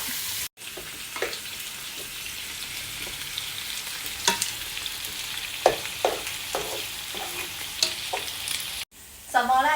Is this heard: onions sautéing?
yes